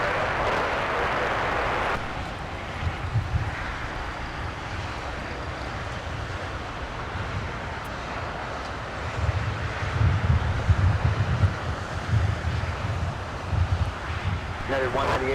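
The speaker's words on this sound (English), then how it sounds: "departing 25 left, we're going to get a BizJet departure off to Santa Barbara" FlexJet Embraer Praetor 500 business jet departing runway 25 left at LAX, a broad engine roar mixed with gusty wind noise on the microphone, with rumbling swells later in the clip.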